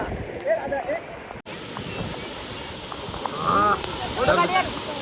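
A waterfall gives a steady rushing roar in the background, with wind buffeting the microphone, while people talk nearby over the water noise.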